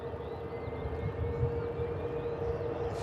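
EasyJet airliner waiting at the side of the runway, a steady whining jet engine hum with a low rumble, moderately distant and continuous.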